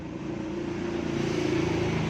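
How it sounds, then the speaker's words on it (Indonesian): A noisy Yamaha Vixion motorcycle engine idles close by, a steady, rough mechanical drone with a rapid ticking pulse running evenly throughout, no voices over it. "kenapa ini motor bisa berisik kayak gini?"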